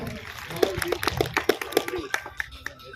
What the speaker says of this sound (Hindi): कलाना के पूर्व सरपंच रमेश जी जागीर साहब, कृपया इनका भी तालियों द्वारा स्वागत करें।